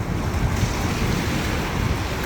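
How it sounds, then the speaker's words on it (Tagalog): Strong wind roars over rushing water during a fishing trip, a steady, dense wash with a faint hum of a boat motor underneath and no voices. "malakas ah, ang hangin tsaka maagos"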